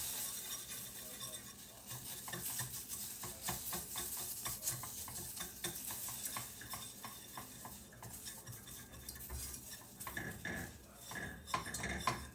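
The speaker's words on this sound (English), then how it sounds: "adding in vegetable broth and whisking that all together to make sure there are no" Tomato paste and vegetable broth for enchilada sauce are whisked together in a pot, making a quiet, continuous rhythmic scraping and clinking of metal against the pan, with a faint simmering hiss beneath.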